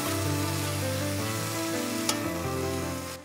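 A beef pot roast sears in a hot pan, giving a steady loud sizzle with a faint crackle and one brief clink near the end.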